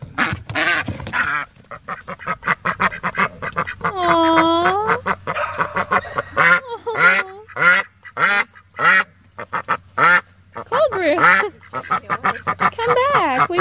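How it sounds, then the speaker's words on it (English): Ducks quack loudly and repeatedly close by, with a long run of raspy, rhythmic calls, while a person talks at times over them outdoors. "Do you hear that other quacking?"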